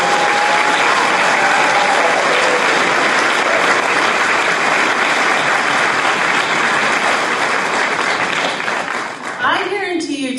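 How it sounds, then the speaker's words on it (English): A large audience at a student awards ceremony gives a dense, loud, sustained round of applause for graduating students, a steady wash of many hands that fades near the end. "can we just give a preemptive round of applause to the outstanding graduating students"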